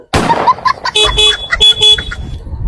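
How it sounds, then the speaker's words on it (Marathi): A vehicle horn honks at a petrol pump in several short, loud blasts of varying length, close by and cutting through the forecourt noise. "मग हॉर्न वाजवतोय"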